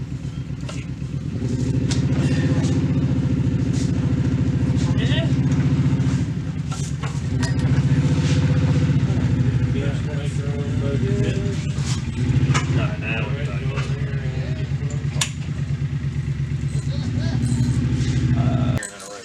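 Race car engine running steadily, a loud continuous rough rumble with clattering overtones held throughout, some voices talking faintly underneath.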